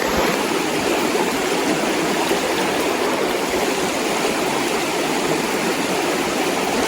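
Fast current of Penns Creek, a trout stream, rushes and churns in a loud, even wash of water that holds steady throughout with no voices.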